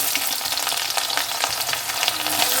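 Whole garlic cloves and onion frying in hot oil in a pan for a red amaranth stir-fry, giving a loud, close, continuous crackling sizzle with brief bursts as the pieces hit the oil.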